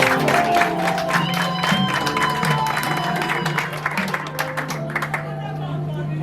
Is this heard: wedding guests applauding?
yes